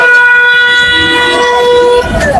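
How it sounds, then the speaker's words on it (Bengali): A loud, sustained horn of a four-wheel goods pickup truck blares steadily for about two seconds, a steady harmonic tone that cuts off near the end. "ওই হর্ন কিন্তু অস্থির ছিল"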